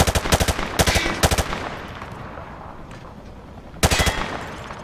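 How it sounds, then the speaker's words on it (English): Automatic weapon fire sprayed wildly in Modern Warfare 2 Remastered, with loud rapid bursts in three quick clusters at the start, a gap of quieter ambience, then another sharp burst near the end. "He sprayed bullets all over the damn place."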